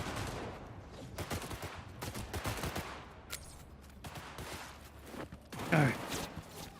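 Gunfire in the video game Cyberpunk 2077 Phantom Liberty: scattered bursts of shots within a busy, moderately loud game mix, with a sharper burst near the end.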